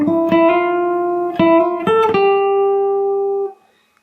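A short guitar melody picked on single strings, a handful of clear, ringing notes played one after another and then sustained on the last note before stopping, heard alone and close.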